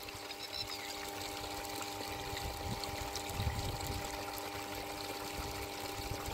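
Water running onto a rice seedling nursery bed in a paddy field, a steady rushing and trickling flow with a faint engine-like pump hum underneath, swelling slightly midway, no voices.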